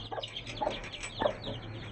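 A hen clucks softly in a backyard coop where seven-day-old chicks have just been shut inside, giving a few short, low calls spaced apart over a faint steady hum.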